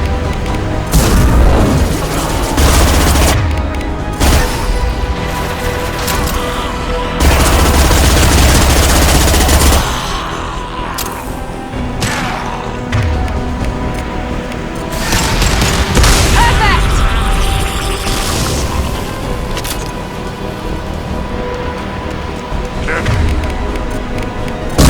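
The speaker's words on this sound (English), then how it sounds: "Firing an impact shot!" Impact shot gunfire from the video game Mass Effect 2: heavy booming blasts and rattling bursts of fire recur throughout, mixed with game noise and talk.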